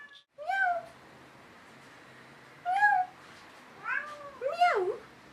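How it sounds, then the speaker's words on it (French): A house cat meows several times in short, rising-and-falling calls, close and clear in a quiet indoor room, with pauses between the bursts. "Notre chat a des choses à dire."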